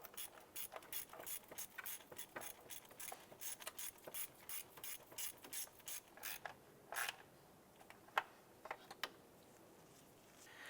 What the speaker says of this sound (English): we'll put our ratchet and socket on in there. And we'll go ahead and start getting that threaded in